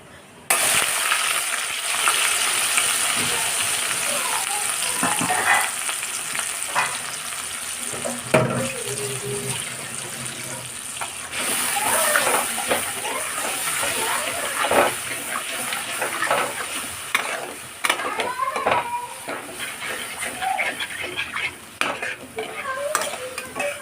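Tomato, green chili and ginger paste frying in hot spiced oil for a mixed vegetable dish, with a steady sizzle, scraping stirs and clinks of the spoon throughout, close and fairly loud, no talk.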